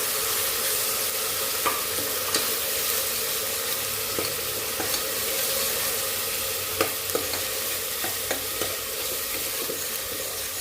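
Masala with onion for a minced meatball gravy fries in a pan with a steady, close sizzle and a few light utensil ticks, no voices.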